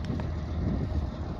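Wind roaring in a ground blizzard over snow, a dense, continuous low rumble with microphone buffeting throughout this short stretch, no voices.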